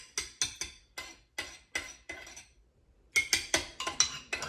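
A spoon clinking against a bowl while stirring a salt and pepper mixture, giving a series of sharp, close, ringing taps in an uneven rhythm, with a brief pause midway and no talk.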